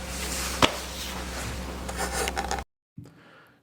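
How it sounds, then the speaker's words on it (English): Steady sandpaper rubbing on a turned burl and turquoise resin bowl, a continuous scratchy rasp with one sharp knock early on, ending abruptly before a short faint scrape. "now I will finish sanding this up"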